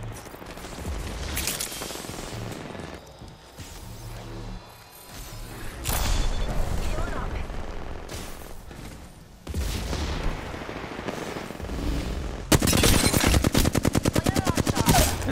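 A Flatline assault rifle fires in Apex Legends, with dense stretches of automatic gunfire and a long rapid sustained burst near the end, loud and close, alongside some talk.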